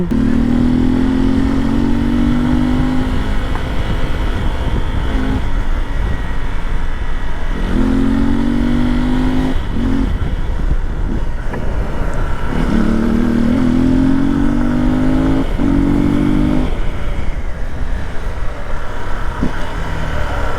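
A Hero XPulse fitted with a 234 big bore kit is ridden outdoors, its engine rising through repeated revving pulls and easing off between them under constant rushing wind noise, with no speech.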